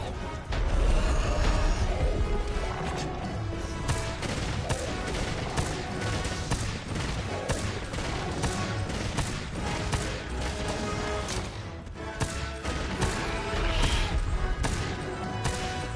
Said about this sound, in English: Just keep firing on him.